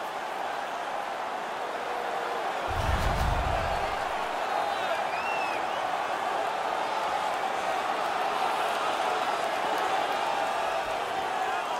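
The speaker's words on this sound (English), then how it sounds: "The home crowd is ecstatic. They're making all kinds of noise." A large hockey crowd in the NHL 19 video game roars continuously, a dense wash of cheering noise with a brief low thud partway through, steady and loud throughout.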